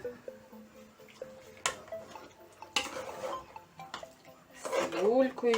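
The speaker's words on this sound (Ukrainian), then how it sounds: "І тепер додаємо наші огірочки і ретельно перемішуємо" Sliced salted cucumbers are stirred into a hot onion marinade in a bowl for crisp pickles: clinking and scraping of a utensil against the dish, with scattered knocks and a louder clatter near the end, no talk.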